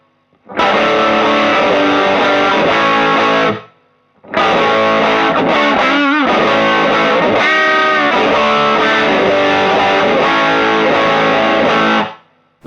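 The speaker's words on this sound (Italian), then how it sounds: "Alziamo un po' il gain e torniamo all'humbucker, toni più aperti e sentiamo un po' di mordente." Heavily overdriven electric guitar on a humbucker pickup through a LAA Custom CN81 Push overdrive pedal at high gain, played as loud, dense chords in two sustained phrases with a brief pause between them, with no voice.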